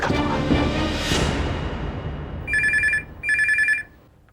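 A telephone rings in two loud, bright bursts about a second long each, separated by a short gap, following fading background music in a domestic drama scene.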